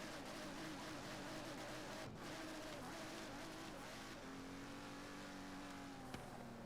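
A modded Forza Horizon 3 race car tuned to 100 horsepower at 100 kilograms runs continuously, its engine droning and shifting pitch as it accelerates. A voice talks faintly over it throughout.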